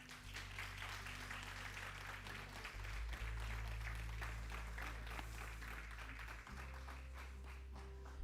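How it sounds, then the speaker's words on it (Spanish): A church congregation applauds in a sustained, dense wash of clapping, with a steady low musical drone running underneath throughout. "Dale un aplauso al Señor."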